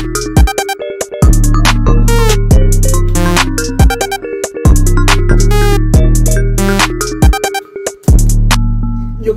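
An instrumental hip-hop beat made in FL Studio with deep booming 808 bass hits, crisp percussion and layered synth melodies, steady and loud throughout.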